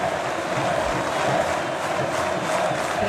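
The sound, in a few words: football stadium crowd of Vasco fans cheering a departing player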